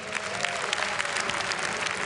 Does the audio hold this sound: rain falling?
no